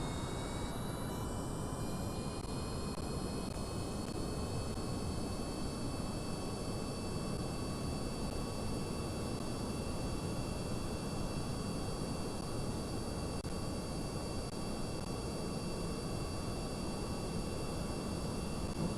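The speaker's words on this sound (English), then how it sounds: "And then we'll drop Rayson in the rocket plane." Rocket plane in Kerbal Space Program flying at around 8 kilometres altitude, giving a steady, loud engine roar with a faint high whine, unbroken and alone for the whole stretch with no talk.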